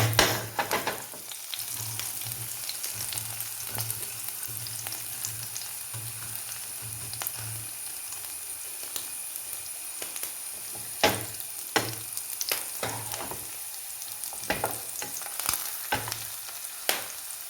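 Onions frying in oil for a Malayalam stir-fry of broad beans and green beans: a steady, close sizzle runs throughout, with occasional scraping stir clatters near the end and no talk.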